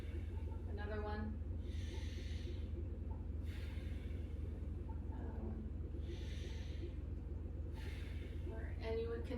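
A patient draws deep breaths during a clinical head-to-toe health assessment, a few slow airy inhalations and exhalations at close range over a steady low background hum.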